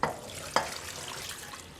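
Water poured into a slow cooker over carrots, dried scallop, red dates, ginger and old cucumber for soup, a short splashing pour with two quick bursts, close and alone.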